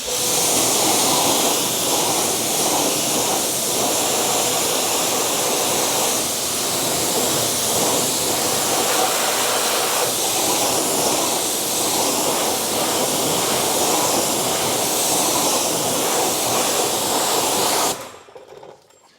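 Final rinse of a car during a wash: a loud, continuous water spray hisses steadily up close for about eighteen seconds, then cuts off abruptly near the end, with no talking.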